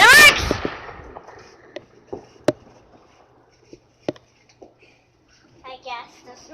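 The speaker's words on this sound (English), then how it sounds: "we're watching all the fireworks" Scattered New Year's Eve fireworks burst at a distance, giving sharp isolated bangs and cracks spread irregularly across the clip, with a close rustle at the start and a brief voice near the end.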